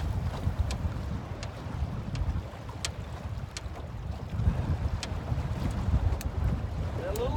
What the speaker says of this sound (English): We get white caps and the wind is blowing.